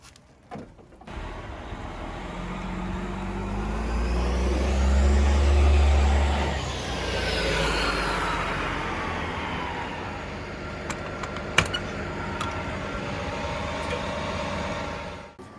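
A 2002 Liberty Prevost XL motorhome pulls away on a test drive, its engine and road rumble swelling and easing as it moves, with a brief sharp click partway through.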